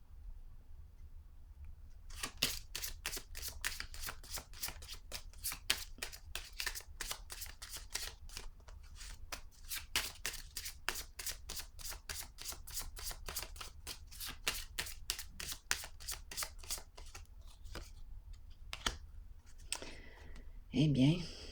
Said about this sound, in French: Je vais piger une carte